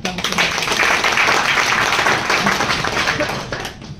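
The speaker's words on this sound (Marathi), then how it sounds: "जोरदार टाळ्या" Sustained clapping from an audience fills the space throughout, a dense steady wash of many hands that thins slightly toward the end.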